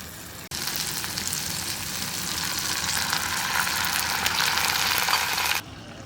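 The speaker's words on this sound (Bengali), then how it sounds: "এবার আমি জল দিয়ে দেবো।" Water is poured into a pan of onions fried until reddish-brown, setting off a sudden loud, close hiss and sizzle that holds for about five seconds before cutting off abruptly.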